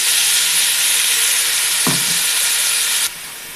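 Tomato paste frying in a hot pan for Nellore-style chicken biryani gives a loud, steady sizzle and hiss, with a brief thud of stirring midway. The sizzle drops off sharply near the end.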